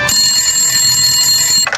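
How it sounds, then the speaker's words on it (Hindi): A bright electronic bell rings steadily and loudly for under two seconds, then stops abruptly. "तकरीबन 7 बजे टेलीफोन की घंटी बजी।"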